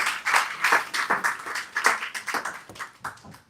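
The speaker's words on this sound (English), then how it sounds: "Big round of applause, please." Small audience clapping in thanks after a talk on famine, food and survival: distinct, fairly close hand claps in an uneven rhythm that gradually taper off.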